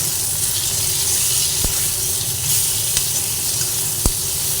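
Salted vegetables sizzle and hiss steadily in a hot pan, close up. A few sharp clicks of a spatula stirring them stand out at intervals.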